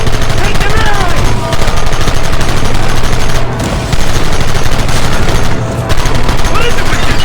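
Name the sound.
gunfire in Red Dead Redemption video game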